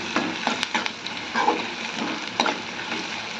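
Onions fry gently in a pan with salt and turmeric while a spoon stirs them. Soft scraping strokes come at an uneven rhythm over a low, steady sizzle, close and fairly quiet.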